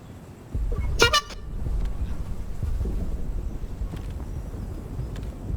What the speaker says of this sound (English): I just about shit myself when you did that honking sound and then ran at me.